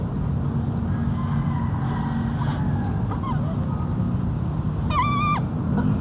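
A kalambat call instrument imitates a chicken, with a couple of faint tonal calls early on and then one clear, sharp harmonic squawk later, all over constant low outdoor noise.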